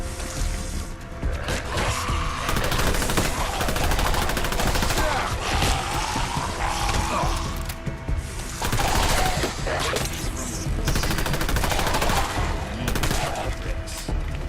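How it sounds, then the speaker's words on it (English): Submachine gun in the video game Fallout London firing in long rapid bursts, loud and close, with brief pauses between volleys and a voice speaking faintly underneath. "Should I test my new submachine gun?"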